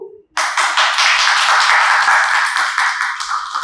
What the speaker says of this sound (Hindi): बंद करो ये तालियां